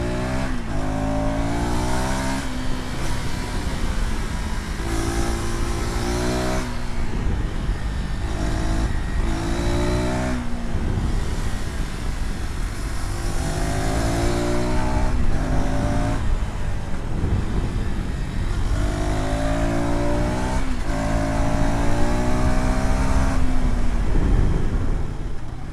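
A KTM ADV 390 motorcycle engine revs and accelerates continuously at close range, its pitch climbing through gears in repeated rising sweeps with brief dips between shifts and steady wind noise underneath.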